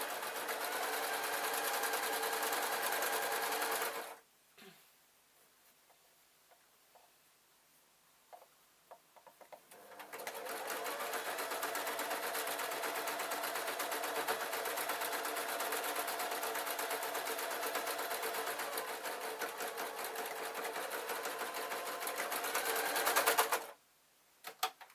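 A domestic sewing machine stitches a straight seam for a drawstring on lined trousers, running in a long steady close whirr, pausing for several seconds with faint clicks, then running again for a long stretch before stopping.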